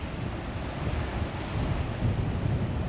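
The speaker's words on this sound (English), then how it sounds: "Quite quiet the waves today" Steady rumble of ocean surf washing in at Filey, mixed with wind buffeting the microphone, continuous and fairly loud with no voices.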